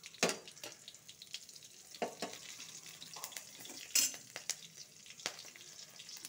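Black mustard seeds and two green chilies frying in hot oil, a soft steady sizzle broken by sharp crackles and pops and an occasional stir against the pan.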